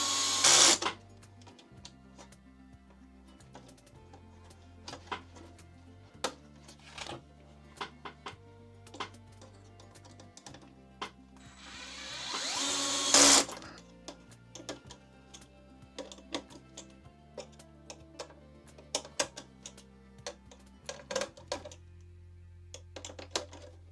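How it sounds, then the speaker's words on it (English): Electric screwdriver driving six screws into a Tamiya Scania 770S 8x4/4 model truck, a series of short whirring bursts with clicks between them, close and fairly quiet, with one louder burst midway. "Pretty much the right torque on the screwdriver"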